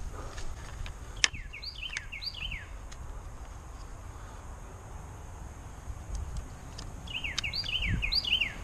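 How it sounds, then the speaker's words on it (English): A bird sings from a tree outdoors in two short bursts of quick, rising chirps, one early and one near the end, over a soft, steady background hiss. "He sure is singing up a storm."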